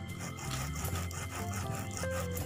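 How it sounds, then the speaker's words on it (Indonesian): Cooked cassava being mashed by hand for a traditional Indonesian dish, a steady close rubbing, grinding scrape with faint rattling that continues without pause and without speech. "Singkongnya kita haluskan dengan cara begini"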